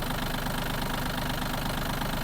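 A Yanmar RS-270 mini tractor's small diesel engine idles steadily with a low, even chugging throb that holds constant throughout, close and fairly loud.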